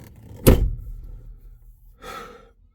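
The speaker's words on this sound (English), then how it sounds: "let me close my door before Blue come back" A door shuts with a single solid thud nearby, followed about a second and a half later by a softer rustling sound, with no talk.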